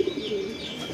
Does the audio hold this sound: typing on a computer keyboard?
no